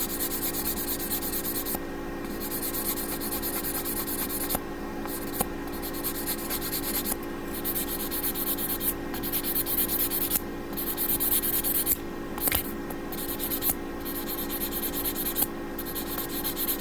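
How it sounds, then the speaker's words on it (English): Sandpaper rubs back and forth against small plastic parts of an SD O Gundam model kit, a close, continuous scratchy rasp broken by brief pauses between strokes. "once I finish sanding this, I'll give it another sanding with number 600 grit and 800 to smooth it out."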